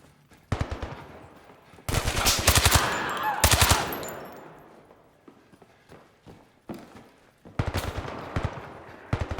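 Gunfire in the Zero Caliber VR shooter game: repeated bursts of rapid automatic shots, some loud and close, others thinner and farther off, with scattered single shots between.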